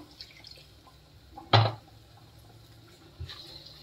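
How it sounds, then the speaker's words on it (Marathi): Water poured into cooked paneer gravy masala in a pan gives one brief, close splash midway, followed by faint bubbling and a small later plop over a quiet background. "आता याच्यात थोडंसं पाणी घालून आपण झाकण लावून"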